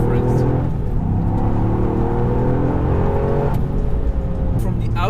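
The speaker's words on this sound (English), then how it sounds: "here we find a fake noise generated through the speakers to enhance the exhaust note." Toyota GR Yaris engine heard from the cabin with a synthetic exhaust note piped through the speakers, a steady droning hum with rising harmonics under acceleration, continuous and fairly loud.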